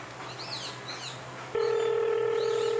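A phone being dialed, with a steady electronic tone starting partway through and holding loud, after an opening stretch of faint chirps and background noise.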